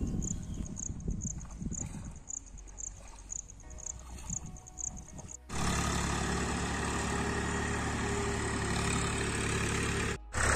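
A tractor engine ploughing a farm field in Balod, Chhattisgarh: faint outdoor ambience with insects at first, then a loud, steady engine drone sets in about halfway and runs on with one brief dropout near the end.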